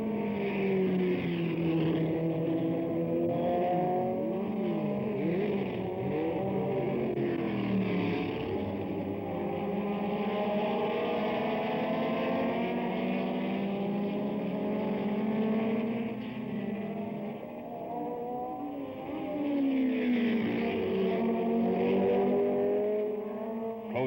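Race cars at the 1971 Can-Am Challenge road race, several engines wailing and shifting pitch as they speed through the course, a continuous loud layered roar with rising and falling tones of cars accelerating and passing.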